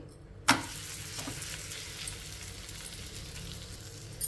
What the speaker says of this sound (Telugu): ఇప్పుడు హై ఫ్లేమ్ పెట్టకుండా కొంచెం మీడియంకి హైకి అడ్జస్ట్ చేసుకుంటూ మనం ఈ రాగి రొట్టెని ఫ్రై చేసేసుకోవాలి.